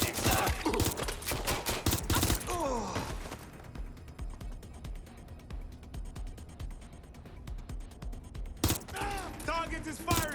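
Bursts of gunfire from a target in the Watch Dogs Legion video game, loud rapid volleys at the start and again near the end, with shouting voices and game sounds between.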